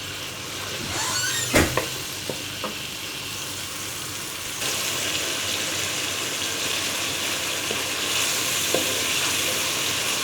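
Masala made with tomato paste fries in a pan for a dhaba-style Punjabi dal, a steady broadband sizzle with a few sharp stirring clinks early on, then a louder, denser frying hiss from mid-clip, with no talking.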